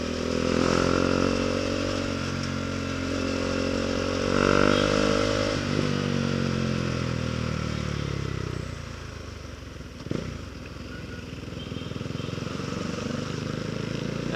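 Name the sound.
motorcycles passing in traffic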